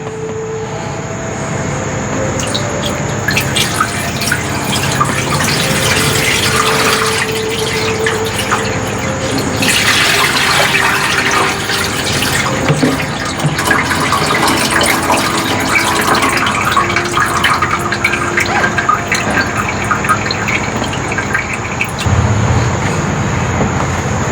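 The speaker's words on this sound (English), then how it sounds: "So let's add the water." Steady rushing of water pouring into a hot dog and bun steaming machine, a continuous loud flow with a hollow splashing tone that runs throughout without pause.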